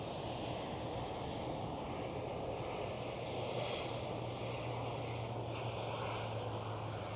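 German Airways airliner taxiing at Schiphol Airport, Amsterdam, a faint, distant steady engine drone with a soft whooshing hiss, continuous and unchanging throughout.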